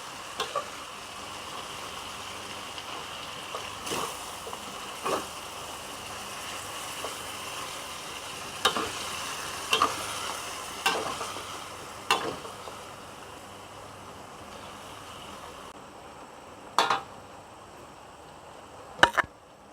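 A pan of cassava curry chicken with cassava leaves is stirred while it fries, giving a steady low sizzle broken by scattered sharp scrapes and clinks of the utensil against the pan.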